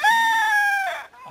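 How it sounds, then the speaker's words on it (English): A rooster crows loudly and close, one long drawn-out cock-a-doodle-doo with clear harmonics, ending in a short clucking note. "Get them roosters when they crow like that."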